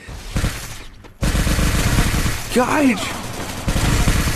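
Rapid bursts of gunfire in the Free Fire video game, loud and close, layered over game effects while a player talks excitedly over the action.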